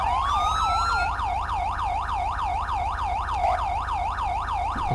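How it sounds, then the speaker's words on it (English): Loud, continuous police siren in GTA 5, cycling in quick regular wails close by. A rising tone sweeps in at the start before the steady pattern settles, over a low engine drone with no voices. "I'm just trying to turn off the siren right now"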